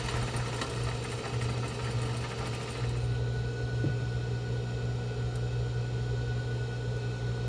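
A sewing machine runs steadily while stitching a box-style fabric face mask, its motor hum continuous and close, with a slight change in tone partway through and no talking.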